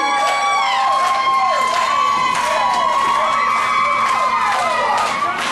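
A wrestling crowd cheers loudly for the wrestler Tropic Thunder, a dense, continuous roar of shouting voices with whistles and high-pitched cries rising above it throughout.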